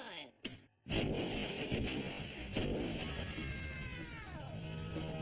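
A sewer explosion set off by sparking: a sharp blast breaks a brief silence, then a long roaring rumble with a falling whistle-like tone, loud and fairly close, with voices under it.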